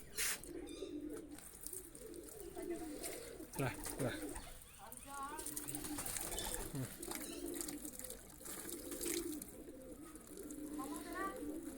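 Soft pigeon cooing comes and goes amid splashing water and people talking, all fairly quiet and distant, as pigeons are bathed with water.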